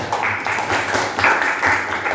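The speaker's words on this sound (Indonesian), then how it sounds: "tepuk tangan semuanya" Classroom group applause during a Christian religious education lesson, a short burst of hand clapping swelling in two or three waves, moderately close and dense.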